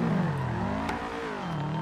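A car engine revs and accelerates continuously inside a driving video game, a steady mid-pitched whir rising and falling without pause, loud and close with no talk over it.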